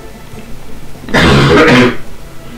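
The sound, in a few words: cough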